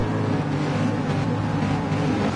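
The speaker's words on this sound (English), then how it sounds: "Everybody on the grid as we wait for the lights to come on, revs go up" Race car engines revving together on the starting grid in the GT Sport video game, a loud, dense, continuous drone of many motors held at high revs.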